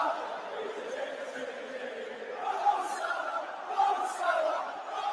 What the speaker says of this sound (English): you can hear the Anfield crowd are roaring on the boys